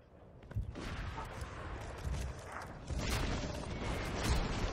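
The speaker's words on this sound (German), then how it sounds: "diese Explosionen machen mich ein bisschen verrückt" Explosions and gunfire from the video game Borderlands 2 form a dense, loud barrage of rumbling booms and crackling blasts, building in intensity without pause.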